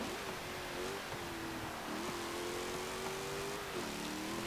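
A 2018 Jeep Grand Cherokee Trackhawk in the Forza Motorsport racing game, engine droning steadily at high revs through a lap with slight pitch shifts, beneath a constant bed of road and wind noise.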